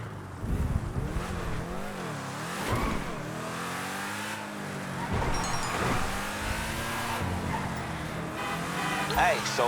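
In GTA 5, a Benefactor LM87 race car engine revs and climbs in pitch repeatedly, with swooping gear changes and tire noise, while a voice talks over it.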